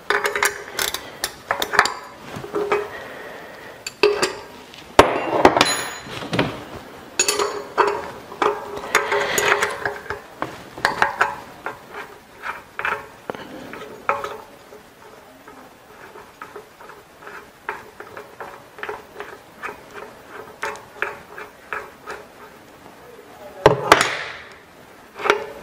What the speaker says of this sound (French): on va coincer l'écrou de l'autre côté avec la clé plate de 17 pendant qu'on va dévisser le cône qui est ici.